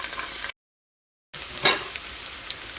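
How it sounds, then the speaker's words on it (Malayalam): Ginger and garlic go into hot coconut oil and sizzle softly up close, with a brief gap of silence and then a short louder burst of spitting as the pan is stirred. "അപ്പോൾ ഫസ്റ്റ് നമുക്ക് ഈ വെളിച്ചെണ്ണയിലേക്ക് ഇഞ്ചിയും വെളുത്തുള്ളിയും ചേർക്കാം."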